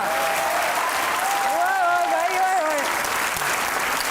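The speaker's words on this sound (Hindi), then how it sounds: "ठीक ही तालियां।" Studio audience applause on a Hindi-language game show, a dense, even burst of clapping lasting several seconds, with a voice briefly rising over it partway through.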